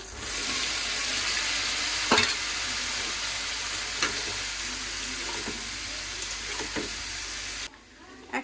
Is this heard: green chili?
yes